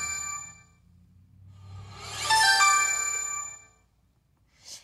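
A mobile phone rings with a bright electronic ringtone of ringing, chiming tones, swelling in the middle and then stopping, followed by a brief faint click, with no talking.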